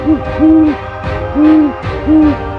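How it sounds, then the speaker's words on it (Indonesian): Three deep, drawn-out great horned owl hoots, evenly spaced and fairly loud, each a low steady tone with a soft rise and fall. "Dari suaranya, burung hantu tanduk besar menang,"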